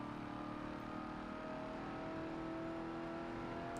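A Ford F-100 truck engine in Forza Motorsport 7 holds a steady, droning rev with a rising whine, continuous and even in level, with no talk.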